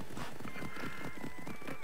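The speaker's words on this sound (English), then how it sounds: "we can call a horse from here and ride straight to it" A summoned horse in Assassin's Creed Odyssey, its hooves clip-clopping at a quick pace with a whinny mixed in, fairly faint under the game's ambient sound.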